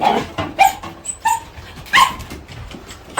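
A dog barks repeatedly in short, uneven bursts, nearby and loud, with occasional yips between barks.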